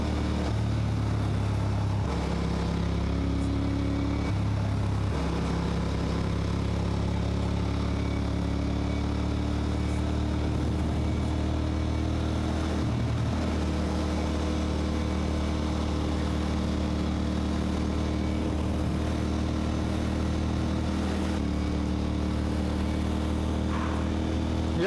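A 1999 Ducati Monster 600 motorcycle with an aftermarket exhaust, heard while riding: a continuous low engine drone with throttle shifts in pitch, steady and close under wind.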